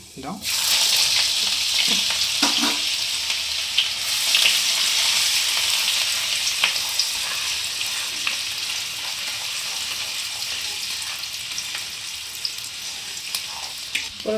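Chopped garlic and ginger frying in a pan for chilli chicken, a steady loud sizzle running the whole time with a few faint stirring clinks, no talk.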